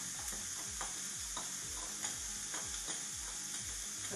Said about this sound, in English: I'm gonna add my onions to my meat